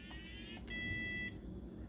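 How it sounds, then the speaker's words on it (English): Electronic beeps from a 1979 Mattel Funtronics Jacks handheld game, a short buzzy tone followed by a longer, louder one, clear and close against a quiet room. "You can hear the 4 beeps."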